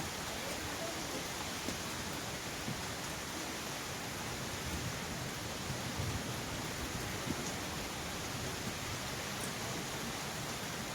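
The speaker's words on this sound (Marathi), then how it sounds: "खालचा पाऊस बघा तुम्ही तर हा पूर्ण अहमदनगर जिल्ह्यामधला पाऊस आहे" Heavy rain in Ahmednagar district, a steady dense hiss of downpour with gusting wind, continuous and fairly faint with no clear breaks.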